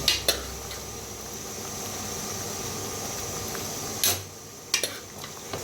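Chicken masala stirred in a pot after the cooker contents are tipped in, a continuous hissing scrape under a few louder clanks of the utensil against the metal, close up with no talking.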